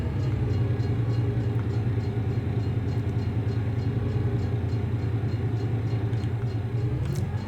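A train rumbles past in a farming video game, a steady low mechanical drone and rolling clatter holding at an even, moderate level for several seconds, with no talk.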